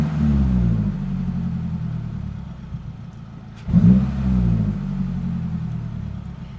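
A 2022 Subaru WRX with an ETS muffler-delete exhaust drives by with a deep boxer rumble, steady at first and then a brief louder surge of revving before settling back.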